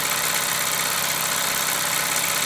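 A small steam engine drives a dynamo, giving a steady, even mechanical hiss and whirr that holds constant throughout with no speech.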